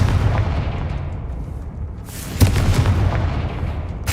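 A Confringo fire spell explodes in a Harry Potter video game, a sharp blast bursting out midway over a dense rumbling game backdrop, followed by crackling debris and a sustained roar.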